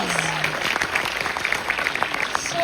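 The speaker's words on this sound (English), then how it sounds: "give yourselves a round of applause." Audience applause at a TV series Q&A panel, a brief burst of dense clapping from a large crowd filling the room, with a few voices faintly mixed in.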